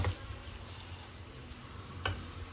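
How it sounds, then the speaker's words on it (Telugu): Paneer frying in a pan gives a steady, close broadband sizzle with a low rumble beneath and one brief clack of a utensil near the end. "ఇప్పుడు పనీర్ని మంచి ఫ్రై చేసుకుందాం."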